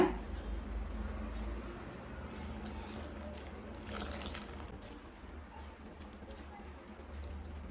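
Soft trickling and patter of water pouring steadily into rice flour for murukku dough, close by and fairly quiet, with faint clinks in the background.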